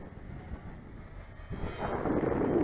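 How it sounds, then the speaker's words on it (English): Wind buffets an outdoor microphone on a breezy day of 5 to 10 mph gusts while a mini FPV racing drone hovers, a low steady rumble that grows louder and rougher in the second half, with no talking. "It's a little bit windy today, 5 to 10 miles an hour winds"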